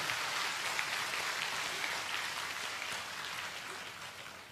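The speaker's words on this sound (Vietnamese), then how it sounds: "Xin cộng đoàn vỗ tay chúc mừng" A church congregation at a bishop's ordination Mass claps together in a dense, even wash of applause that fills the space and slowly fades a little toward the end.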